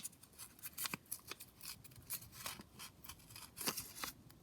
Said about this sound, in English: Now I'm just going to tear this down slightly more.